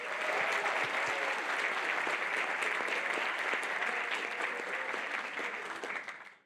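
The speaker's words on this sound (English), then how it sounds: "Let's give applause to Rabbi Fogel, Dr. Halprin, Dr. Amler," Sustained applause from an audience at a white coat ceremony, a dense, even wash of clapping hands that holds steady before tapering off at the end, without speech.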